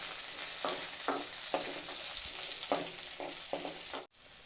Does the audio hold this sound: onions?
yes